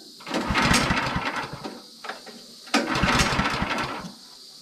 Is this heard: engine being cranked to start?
yes